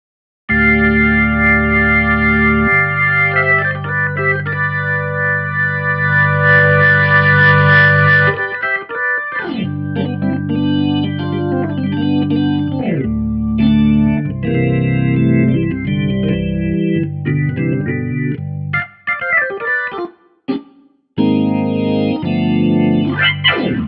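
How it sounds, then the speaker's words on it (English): A loud electric organ using a C3 blues organ preset plays sustained chords with a swirling, slightly distorted tone, changing harmony every few seconds, with brief gaps near the end. "Organs. Got your C3 blues."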